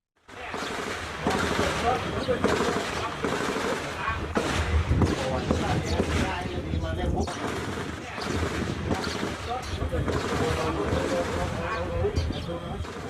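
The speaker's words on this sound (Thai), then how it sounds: "ได้ยินเสียงปืนดังอยู่ตลอดเลยนะครับ" Bursts of gunfire crackle and pop repeatedly amid a chaotic, noisy scene during a security forces' firefight with insurgents in Pattani, Thailand, with a voice talking over the shots throughout.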